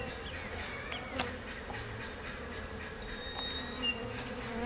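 A dense, steady buzz of many honeybees being hived swarms close by, humming continuously with a few individual insects flying past the microphone.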